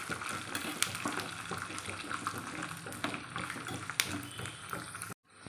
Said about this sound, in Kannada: ಕಡಲೆಕಾಯಿ ಬೀಜ ಹಾಕ್ಕೊಂಡ್ರೆ ನೋಡಿ, ಒಗ್ಗರಣೆಗೆಲ್ಲ ಹಾಕ್ಕೊಂಡು ಒಗ್ಗರಣೆ ಹಾಕ್ಕೊಂಡಿದ್ದೀನಿ. ಒಂಚೂರು ಫ್ರೈ ಆಗಬೇಕು.